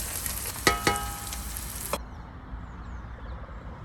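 Spices and coriander fry in a pan for a dal tadka, a soft steady sizzle with a few stirring clinks, close and fairly quiet, that continues faintly after the clatter stops.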